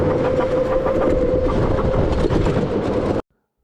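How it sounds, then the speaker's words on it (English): An electric go-kart on a Teamsport indoor track gives off a steady, rattling mechanical whine with a sustained tonal hum, close and loud, cutting off abruptly. "I'm already getting weird sounds from the kart itself"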